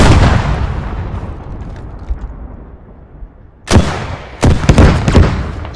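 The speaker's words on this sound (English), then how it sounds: "shoot that fucking tank. Send out the rocket of truth" In a video game, a rocket is fired at a tank: a fading rumble settles into quiet, then a loud sharp blast hits, followed by a cluster of cracking explosions and gunfire bursts, close and forceful, with no talking.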